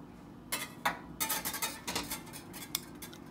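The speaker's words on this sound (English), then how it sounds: "I am just sort of pushing the yarn around in the pot." Yarn is pushed around in a metal dye pot, giving a series of soft clinks and scrapes in irregular bursts over a low hum.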